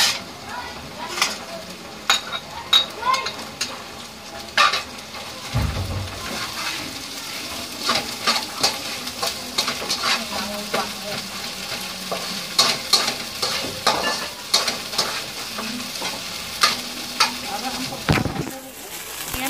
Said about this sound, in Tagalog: igisa na natin ang alamang sa bawang at sibuyas